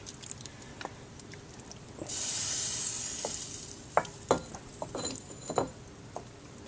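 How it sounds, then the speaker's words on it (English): Roasted acorn squash being stirred into soup in a pot, with a spoon scraping and knocking in several distinct strokes over a soft simmering hiss, close and fairly clear with no talking. "Stir it in and let it come to a simmer"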